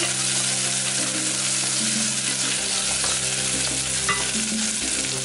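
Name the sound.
stirring in a cooking pot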